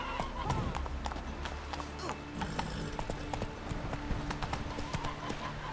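Horse hooves clip-clop rapidly across the ground in The Witcher 3 video game, a steady galloping rhythm heard up close under game ambience and a short spoken line.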